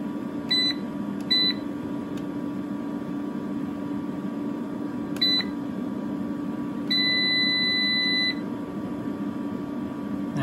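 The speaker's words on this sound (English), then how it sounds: "Turn the beeping off." An EG4 6500EX solar inverter gives short, high electronic beeps, first in a few quick pairs, then one sustained tone lasting over a second, over a steady low hum of fan and electrical noise in a quiet room.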